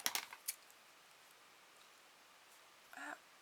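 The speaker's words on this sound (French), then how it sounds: "Avec des gros ciseaux qui coupent pas, c'est pratique." A plastic straw being cut with big dull scissors: a quick cluster of sharp snips and clicks at the start, a lone click after, then near silence before a short brighter crunch.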